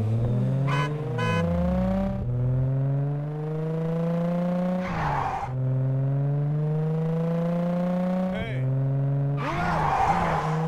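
A stolen car in the Gangstar Rio video game revs and shifts through its gears with rising engine tones, broken by bursts of tire skidding and squealing, loud and close over a short run.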